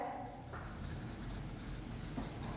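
Marker or chalk scratching steadily across a classroom board during a Class 8 maths lesson on squares and square roots, a continuous close scraping stroke with no pause.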